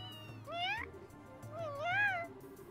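A cat in the Trails in the Sky SC video game meows twice, two rising-and-falling calls about a second apart, fairly clear over quiet game background music.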